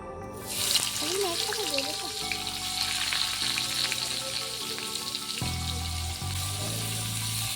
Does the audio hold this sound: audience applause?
no